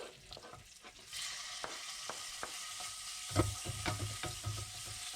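Beef liver sizzling in a pan with a little oil and butter, a low steady fry broken by sharp clicks and scrapes of stirring, louder thumps later as pieces shift.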